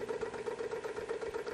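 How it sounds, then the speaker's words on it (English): A Philips engine with no intake or exhaust, running on propane to drive a small generator, hums at a steady idle with a quick, regular pulsing throb, faint and alone. "They manufacture an engine that runs a generator."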